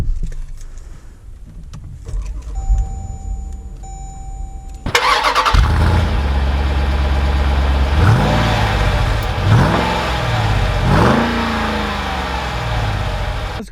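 A 2020 Jeep Grand Cherokee SRT fires up with a sudden loud engine start, settles into a deep idle, then pulls away with several rising revs between gear shifts, heard close and steady throughout.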